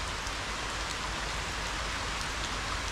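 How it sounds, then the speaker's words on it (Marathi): Rain falling around a parked, freshly washed car, a soft, even hiss of drops on surfaces that stays constant and fairly quiet for the whole stretch, with no voices. "पाऊस पडतो आहे"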